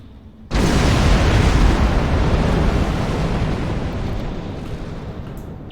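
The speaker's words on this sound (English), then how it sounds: "running through the superstructure of the ship here with everything exploding" Loud, sustained explosion effects aboard a starship in Star Trek Online during the Into The Breach event: a sudden roaring blast that erupts and rumbles on continuously, slowly easing, with no talk.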